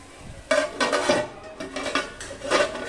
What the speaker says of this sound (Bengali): 5 মিনিট অন্তর অন্তর ঢাকা খুলছি আর নাড়ছি